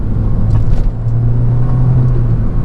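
A 2013 Mini Cooper S Coupe cruises around town, its engine giving a steady low rumble with road noise filling the cabin close up, and no talk.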